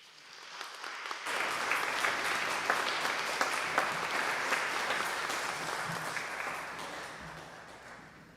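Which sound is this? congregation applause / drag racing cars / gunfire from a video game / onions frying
congregation applause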